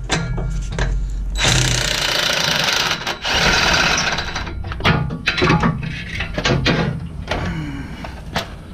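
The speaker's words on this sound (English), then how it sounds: "I'm using my half inch impact wrench." A half-inch impact wrench hammers away at exhaust bolts on a salvage Jeep TJ under rebuild, loud close rattling bursts with brief pauses between, followed by shorter intermittent rattles and clanks.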